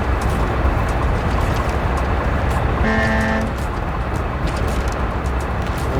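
A rescue loader truck on rails rumbles slowly through the SnowRunner video game, a steady, close mechanical drone with a brief tonal toot midway through.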